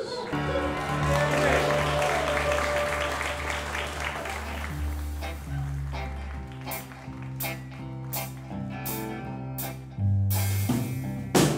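Applause from a live audience welcoming a band at a City Hall session in Austin, Texas, strong clapping and cheering at first, then thinning as the band begins with a few scattered taps and strums.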